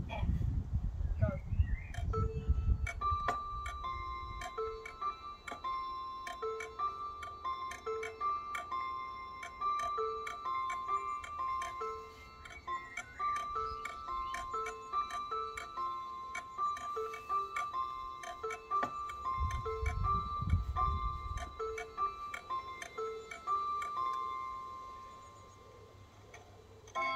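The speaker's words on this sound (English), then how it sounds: "they're the bells and chimes. They're also powered by motor." Motor-driven cathedral bells and chimes ring a repeating bell-like tune over steady clock ticking, with a low rumble near the start and again around twenty seconds.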